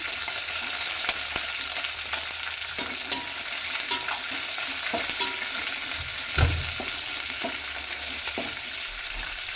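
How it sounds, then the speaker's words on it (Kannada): Curry leaves and green chillies frying in a pan, a steady close sizzle with occasional stirring scrapes and one louder clatter midway, no speech. "ಇವಾಗ ಇದಕ್ಕೆ ಕಟ್ ಮಾಡಿ ಇಟ್ಕೊಂಡಿರೋದು ಎಲ್ಲ ಹಾಕೋಣ. ಕರಿಬೇವು, ಆಮೇಲೆ ಹಸಿಮೆಣಸಿನಕಾಯಿ ಹಾಕೋಣ."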